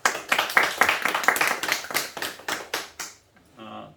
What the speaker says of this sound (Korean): 오늘 마지막 실습하시는 장인숙 선생님 박수 한번 합시다.